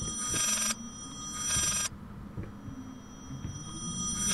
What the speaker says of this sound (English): somebody answer the goddamn phone,